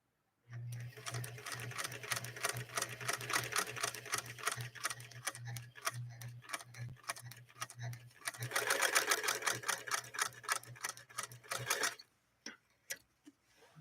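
A Spartan sewing machine stitches polyester fabric in one long, steady mechanical run, its rapid ticking chatter over a low motor hum, close and fairly quiet, before stopping abruptly into a few faint clicks.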